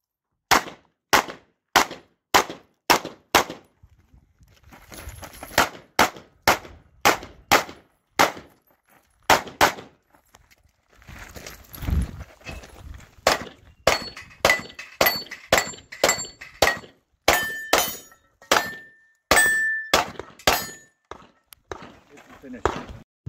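Sharp, regular gunshots ring out at a zombie-themed shooting match, with dozens of evenly spaced cracks in quick rhythm, a short pause partway through, then more rapid shots as electronic timer beeps sound and people speak briefly.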